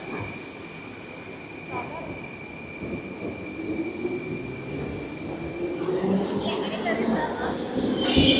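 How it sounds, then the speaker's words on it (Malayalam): A new metro train pulls into a station in Uzbekistan, rumbling and squealing on its rails as it arrives, with the noise building steadily while people talk nearby. "പുതിയ മെട്രോ എത്തി. പുതിയ മെട്രോ."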